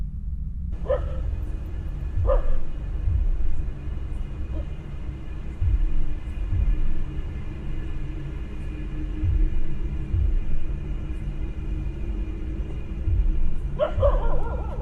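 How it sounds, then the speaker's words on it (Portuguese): Dog barking repeatedly at night outdoors, sharp barks spaced over a steady low rumbling background, a burst near the start and another at the end. "um deles começou a latir para algo muito estranho"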